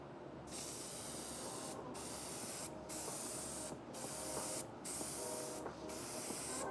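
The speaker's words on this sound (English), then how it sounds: "I will start evenly spraying my glue." Spray adhesive glue hisses onto a van bed panel in about six steady, close bursts of a second or so each, separated by brief pauses.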